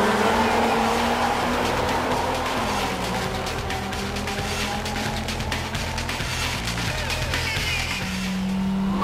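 Honda Civic Type R EK9 racing, its engine note droning steadily up close with a brief tire squeal near the end, continuous and loud throughout without any talk.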